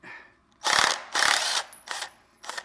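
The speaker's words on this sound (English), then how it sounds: "Let's first take this bolt out." A ratchet wrench loosens a bolt on the pulley of a 1978 Toyota 2T 1.6L OHV engine, giving four close, loud bursts of rapid clicking, two long ones followed by two shorter ones.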